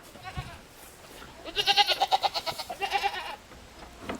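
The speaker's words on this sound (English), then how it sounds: "these goats are far from starved. Golly, listen to them though." Several goats bleat loudly in quick, wavering calls, a burst of overlapping cries that fades after a few seconds, over quiet outdoor background.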